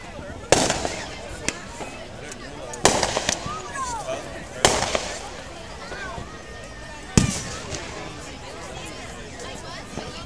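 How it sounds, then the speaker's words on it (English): Fireworks at an Evansville display burst in four sharp, booming explosions spaced a few seconds apart, with crackling tails after each, while nearby people chat and a crowd murmurs in the background. "Evansville fireworks."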